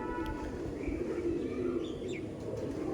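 Giribaz pigeons give soft, low cooing with a few brief chirps mixed in, close and moderately quiet over a steady background hum.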